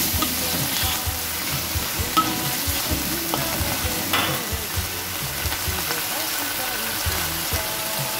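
Button mushrooms crackle and sizzle in a hot pan for a vegetarian lo han cai dish, with a steady close frying hiss and occasional stirring scrapes, and a voice speaks faintly underneath.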